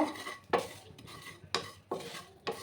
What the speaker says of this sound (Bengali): একটু ড্রাই রোস্ট করে নেব।